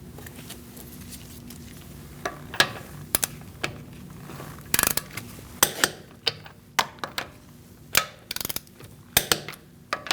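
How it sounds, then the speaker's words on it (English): A torque wrench tightens wheel lug nuts on a 2008-2014 Mercedes-Benz C300, with a series of sharp mechanical clicks and ratchet ticks spaced irregularly over a low background hum. "We're going to torque our wheel to 96 foot-pounds."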